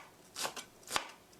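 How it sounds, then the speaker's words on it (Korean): A kitchen knife chops green onions on a cutting board, giving a few close, sharp chopping strikes spaced irregularly over a quiet background, with no talking. "와, 파가 순식간에 다져졌어요."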